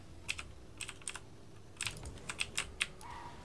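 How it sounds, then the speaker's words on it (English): Clicky computer keyboard keys tapped in short bursts, a few crisp clicks then quick clusters, close and clear over a quiet background hum. "This keyboard is so satisfying to click."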